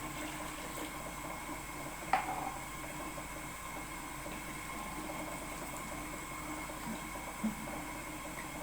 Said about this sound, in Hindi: एक गिलास पानी।